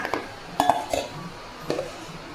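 Serving utensils clink against dishes as bitter gourd and potato fry is served: three or four short, light metallic taps spread across a quiet moment, fairly close.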